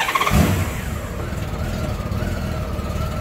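A Honda GL1500 motorcycle engine starting, with a short burst of cranking that catches into a steady, low, even idle that carries on to the end.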